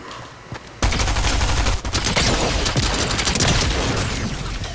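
Rapid, loud SMG bursts from the Fortnite video game erupt after a quiet start, sustained automatic fire close by that continues densely for several seconds with brief dips.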